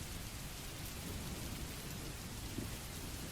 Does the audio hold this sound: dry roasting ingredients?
no